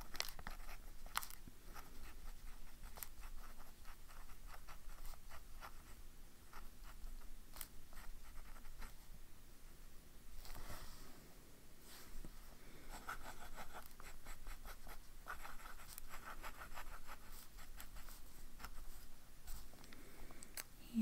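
A Lamy fountain pen scratches steadily across paper, a soft continuous writing sound with small taps and strokes, faint and close with no talking.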